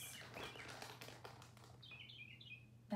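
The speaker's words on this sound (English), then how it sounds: "That bird is back." A small bird chirps outdoors, faint and distant, a few high twittering notes in the latter half after some soft rustling, quiet overall with no talking.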